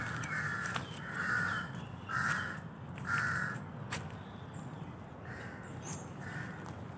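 Crows cawing in a Bangkok park, a series of harsh separated caws, about five in a row then a pause and more, moderately close over quiet outdoor ambience.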